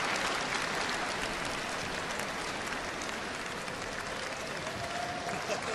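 Sustained applause from a gymnastics arena crowd after a men's artistic gymnastics routine at the Universiade, a dense steady clapping that fills the whole stretch without letup.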